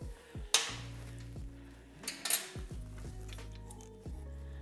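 A valve tappet lock nut on a Honda CT90 engine is tightened with hand tools, giving a few sharp metallic clicks and clinks against a steady low background hum, close up and without any speech.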